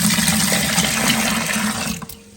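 Water left from cooking moong dal and rinsing a mixer jar poured into a bucket, a steady close splashing gush that tapers off near the end.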